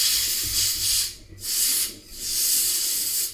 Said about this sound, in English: Now you can try using compressed air to clean that squirrel cage.